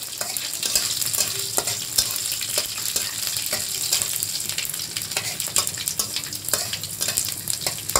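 Panch phoron spices, added with bay leaf and slit green chillies, sizzle in hot oil in a pan with a close, steady crackle and sharp pops, occasional stirring scrapes and no talk.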